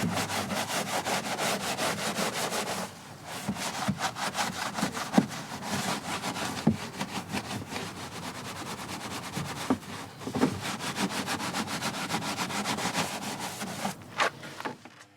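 Brushes scrub the wheels and wheel arches of a 30-year-old Alfa Romeo during a wash, giving a steady close rasping and rubbing that runs continuously with brief pauses.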